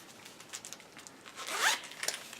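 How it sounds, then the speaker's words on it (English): A zipper on a small waterproof pocket of an elastic runner's belt is pulled closed in one quick, soft, close-up zip, with faint handling rustle around it. "So you just put it in here and you zip it closed."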